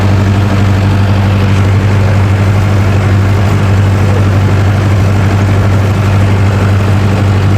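Arjun Novo 655 4x4 tractor engine pulling a 9-foot super seeder in a field, a loud, steady low drone throughout with no breaks.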